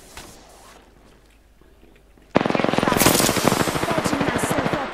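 Rapid automatic gunfire from the video game Apex Legends bursts in loudly after a quiet stretch of low background noise, then keeps up a steady, dense rattle of shots to the end.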